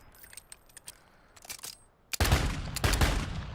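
A pistol reload in Call of Duty: light metallic clicks and rattles, then a louder, dense burst of mechanical noise, close and with no talk.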